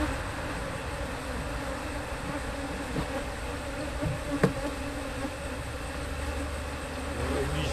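Steady buzzing of many disoriented honey bees at a hive fills the clip, a dense continuous hum close by with a brief sharper sound midway.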